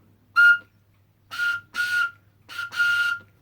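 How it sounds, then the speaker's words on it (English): A handmade whistle carved from a bramble stem is blown in five sharp, close toots, one short blast, a pause, then four more in quick succession, each a clear, loud tone with breathy edges. "there you can see we now have two whistles"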